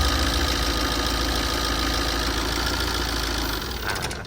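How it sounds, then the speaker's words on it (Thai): A car engine idles steadily after its water pump and drive belt set are replaced, a continuous close rumble with even mechanical ticking and no voices. "ติดเครื่องดู ดูสายพาน"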